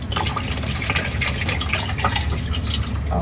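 Bottled mineral water pours steadily into a cooking pot in a kitchen in Japan, a continuous close liquid gush and splash lasting a few seconds with no talking.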